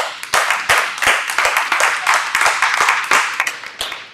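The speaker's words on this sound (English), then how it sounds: "Clap it up for that." A live seminar audience claps in a lively burst of sharp, distinct hand claps, close and loud, with a loose uneven rhythm and no talking.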